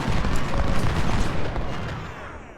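Artillery and rifle fire in Ultimate General: Civil War rumbles as a loud, dense burst of overlapping booms and shots that rolls on and then fades away over a couple of seconds.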